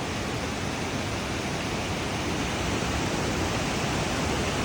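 A Thai waterfall in full flow pours as a dense, uniform hiss and roar that stays loud and constant from start to finish, with no voices.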